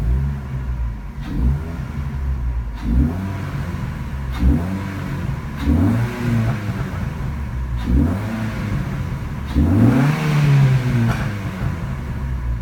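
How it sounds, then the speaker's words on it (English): A 2003 Ford Focus SVT with an aftermarket throttle body revs repeatedly, each rise and fall of the mid-pitched engine loud and close, with no talking. "That is my 2003 Focus"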